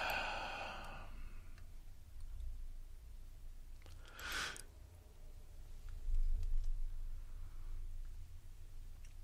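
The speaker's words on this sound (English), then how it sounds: "I was yawning and I didn't want to yawn." A man on a podcast lets out one drawn, breathy yawn that swells and fades through the middle of the recording, set against quiet room noise and soft breathing.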